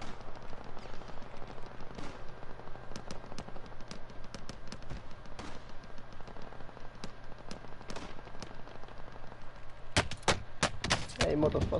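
Gunfire in Call of Duty Warzone (Modern Warfare): scattered sharp gunshots and short bursts over a low background hum, turning to a dense, louder volley near the end.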